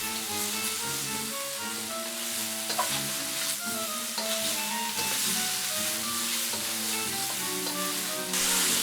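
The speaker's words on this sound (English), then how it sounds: "Finally add the oyster mushrooms. Gently stir for 1 minute." Oyster mushrooms pan-frying over high heat, a constant bright sizzle with gentle stirring scrapes throughout, close and steady, with no voices.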